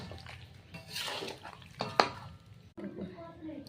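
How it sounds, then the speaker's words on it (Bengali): Meat and potatoes being stirred in a cooking pot, with scraping clatters and a soft sizzle under a murmuring voice, plus one sharp clink near the middle. "তো কষে নিয়েছি, আমি আবার আলু দিয়েছি, আবার কষবো। একটু নেড়ে নিই।"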